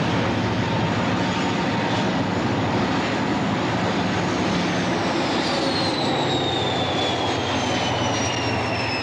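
A high-speed train rumbles past steadily and loudly for several seconds on a Brunel-built line in England, with a broad roaring wash of noise and a rising whine near the end.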